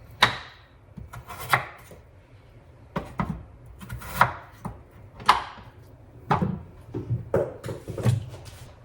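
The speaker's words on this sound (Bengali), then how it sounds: "আলুগুলোকে এখন ছাড়িয়ে কেটে নেব, ধুয়ে নেব" Potatoes being peeled and cut for Kashmiri aloo dum give a series of close knife chops and scrapes against a board at an irregular rhythm, moderately loud and without talk.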